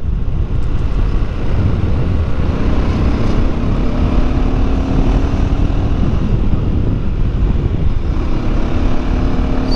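A 2024 KTM Duke 390 with a quickshifter is ridden on the road: loud, constant wind rush covers a low engine drone that rises in pitch as the bike accelerates.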